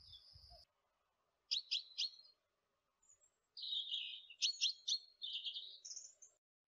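A wild finch in the Palencia mountains sings in short, high bursts of rapid chirps and trills, with quiet gaps between phrases, fairly close and clear against a silent background.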